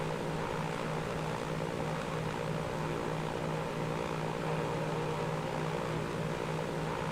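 Droning propeller engine of a Douglas DC3 Dakota in the video game Transport Fever, a steady, continuous hum with a low pulsing throb, heard alone and unchanging throughout.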